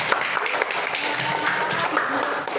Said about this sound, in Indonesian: Tepuk tangan untuk Silvi